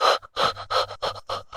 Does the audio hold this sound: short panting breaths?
yes